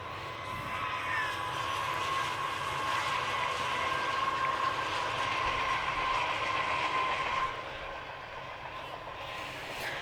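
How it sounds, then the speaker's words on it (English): A train passes a baseball ballpark in Haysville with a steady, loud rumble and a sustained horn-like tone for about eight seconds, then fades slightly as it moves on, with faint crowd ambience underneath. "Do we have a train coming through?"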